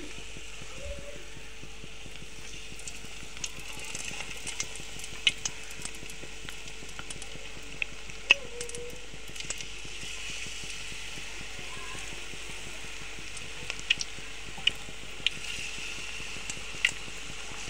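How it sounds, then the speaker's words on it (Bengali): Cauliflower pakoras sizzle in hot oil, producing a soft, continuous crackle with scattered sharper pops, fairly quiet and steady with no voices. "আমি এক এক করে আস্তে আস্তে করে পাকোড়াগুলো ভেজে নিচ্ছি।"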